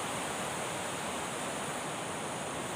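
River flowing at a riverside in the rural provinces, a steady broadband rush of water that is constant and fairly close, with no voices over it.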